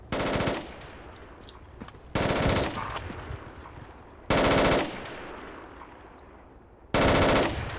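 Machine-gun fire in the Project Reality military shooter game, engaging a target on a roof: four loud bursts of automatic fire, each about half a second long, spaced a couple of seconds apart with echoing tails, no speech.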